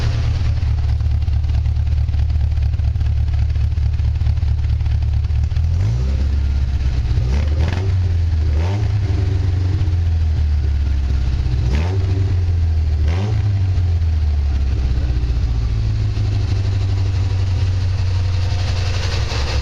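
A 1960 Triumph TR3A engine on Weber DCOE 42 carburettors idles after first start with a steady low rumble, revved briefly several times in the middle before settling back to a smooth, slightly high idle.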